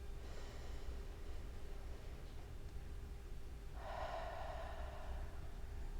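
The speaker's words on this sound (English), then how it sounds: "Exhale the word ha out through your mouth." A person in a slow flow yoga session exhales an audible breathy "ha" through the mouth, a soft airy rush after a quiet stretch of breathing, fairly close and alone.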